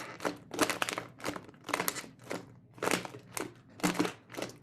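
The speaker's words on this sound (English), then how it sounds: "Definitely sounds like footsteps and crunching." Crunching and crinkling from the plastic lid of a goldfish cracker container being squeezed, about eight bursts in a steady footstep-like rhythm, close and fairly loud, with no talk.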